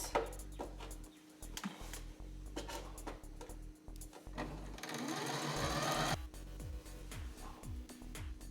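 A home sewing machine set to a 3.5 stitch length runs basting stitches across a fabric checkbook cover, its motor whirring in loud rhythmic bursts with short pauses between runs.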